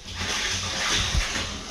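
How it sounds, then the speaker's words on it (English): A pumped stream of water pours downhill into a tank at an off-grid homestead, a brief, steady splashing rush heard close and alone. "you can see we're filling up the tank here down the hill. Pretty good stream of water, really."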